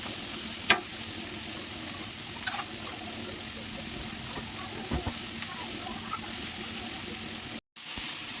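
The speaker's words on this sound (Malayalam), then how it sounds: "പാനിനകത്ത് കടുക് പൊട്ടിച്ചിട്ട് നമ്മുടെ ചീര അരിഞ്ഞ് വെച്ചേക്കുന്നതെല്ലാം കൂടെ അതിലേക്ക് ഞാൻ വെച്ചൊന്ന് വേവിക്കാൻ വെക്കും" Chopped spinach, added to a pan of spluttered mustard seeds, sizzles in a steady, close hiss, with a few faint pops and stirring clicks.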